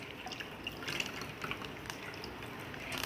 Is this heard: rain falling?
no